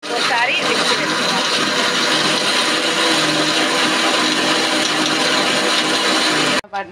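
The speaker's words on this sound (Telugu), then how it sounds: "ఒకసారి మిక్సీ వేసుకోవాలి" A mixer grinder blends a ginger chutney with jaggery, giving a loud, steady whirring motor roar that runs almost without a break before cutting off abruptly near the end.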